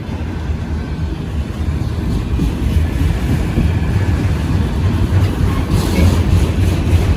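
A freight train loaded with automobiles in auto rack cars rolls past close by, producing a loud, continuous rumble with rattling wheel noise throughout.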